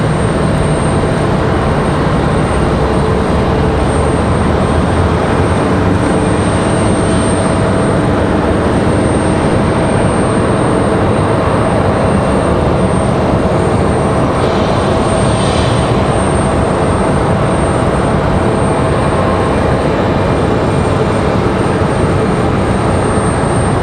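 An airliner on the Philadelphia flight touches down at Raleigh-Durham, a loud, steady wash of engine and rushing noise filling the whole stretch without talk.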